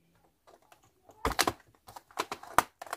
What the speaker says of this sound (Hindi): तो उसको भी खोलते हुए कीबोर्ड को उतारना है।